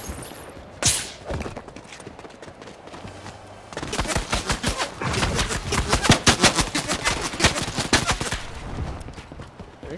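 Fortnite gunfire rings out as a single sharp shot, then a long rapid burst of close, loud automatic fire with sporadic heavier cracks.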